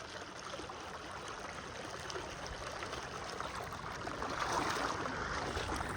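Fast, deep floodwater courses through a village in the Taunsa flood, an unbroken rushing and trickling wash heard nearby, building a little in strength in its last seconds.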